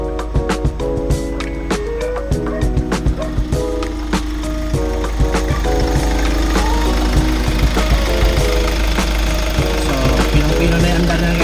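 A Kia K2500 diesel engine idles after injector repair, running with a steady rhythmic knock and dense clattering vibration, loud and close, with the engine sound dominating throughout.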